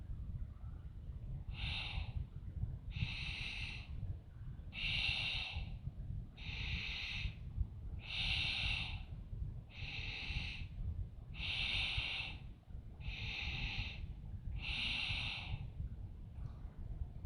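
Deep yoga breathing during a slow arm-swing exercise, about nine strong, evenly spaced breaths, each a close, airy rush, over a low steady background rumble.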